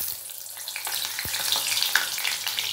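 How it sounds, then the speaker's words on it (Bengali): Potatoes fry in hot oil in a wok with a loud, bright, continuous sizzle, broken by a couple of soft knocks from stirring. "দিয়ে আলুটা ভেজে নেবো"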